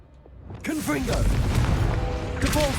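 A Confringo spell blast in Hogwarts Legacy bursts out as a loud, dense rumble with crackling and mechanical clatter, lasting through the clip while a voice talks over it.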